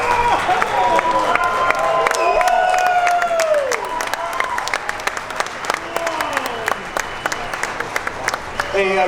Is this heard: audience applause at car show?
yes